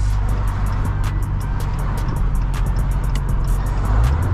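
A Hellcat Challenger drives through Los Angeles streets in daytime, a loud steady low engine drone heard from inside the car, with faint ticking clicks over it.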